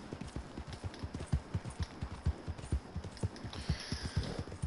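Horse hooves clip-clop at a steady walking rhythm in Red Dead Redemption 2, each footfall close, clear and evenly spaced, with no talking over them.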